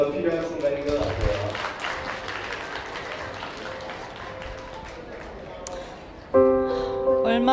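Wedding guests break into applause during a Korean wedding ceremony, a sustained crowd clapping that swells and holds, with music tones and voices around it and a louder musical burst near the end.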